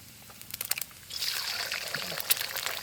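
A cracked egg slides into an oiled pan, with a few soft taps and clicks at first, then a sudden rise into bright, continuous sizzling that carries on to the end.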